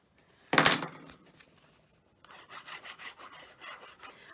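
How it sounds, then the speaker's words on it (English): Folding and burnishing a scored paper card: a sharp close crease, then a quiet pause, then a run of quick rhythmic rubbing strokes. "And I'm holding it, folding and burnishing."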